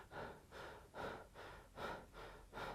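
A voice imitates the panting breath of a dying person: quick, rhythmic, breathy gasps in and out, about two per second, close and soft.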